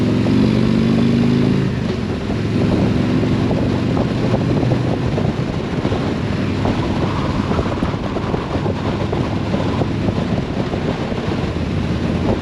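A Harley-Davidson Street Glide Special engine rumbles steadily while the bike is being ridden, its low drone blended with constant wind roar across the microphone, loud and unbroken with no talk.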